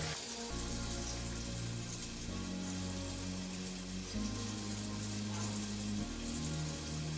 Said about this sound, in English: Sizzling good now.